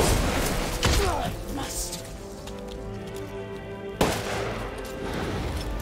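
Gunfire in the Resident Evil Village finale, with a couple of sharp shots standing out over a dense, layered game soundtrack and effects.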